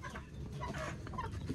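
Chickens released from their coop on a farm cluck and chatter continuously at close range, with several birds overlapping and no people speaking.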